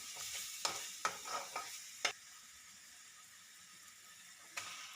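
Chicken cooks in masala paste and oil with a quiet, even sizzle, broken early on by several quick spatula scrapes and one last scrape near the end.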